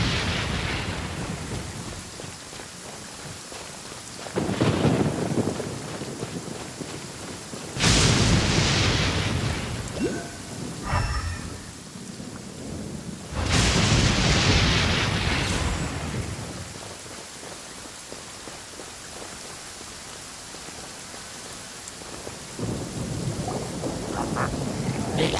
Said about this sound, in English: Hey, it's just a little lightning.